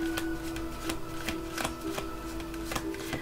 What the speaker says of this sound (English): So I am just shuffling.